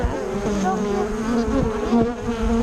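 Bees buzz steadily and densely inside a beehive, a close, sustained droning hum with overlapping tones from many insects.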